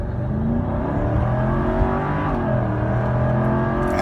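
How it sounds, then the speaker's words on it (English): A Mercedes-Benz SL500 roadster from 2004 with its V8 revving in sport mode, traction control off: a steady, loud, deep engine growl with rising and falling pitch, heard from inside the car without talk. "You hear that nice growl from the V8."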